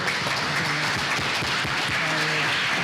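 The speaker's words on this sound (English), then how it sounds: "We'll give you another round of applause for." Audience applause fills the hall after a lecture, a dense, steady wash of clapping that runs unbroken for a few seconds with a faint tonal hum beneath.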